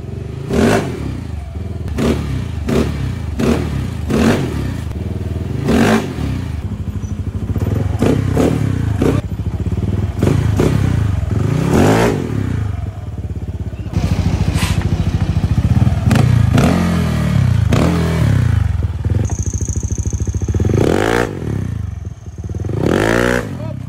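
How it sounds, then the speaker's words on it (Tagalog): A Yamaha NMAX V2 scooter with a 195cc engine, throttle body and upgraded crank, revs hard again and again up close, with loud rising and falling bursts, a rough idle between them and clattering mechanical noise throughout. "195cc engine"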